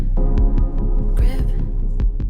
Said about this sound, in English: beat is the sound and cadence of boxing gloves hitting a punching bag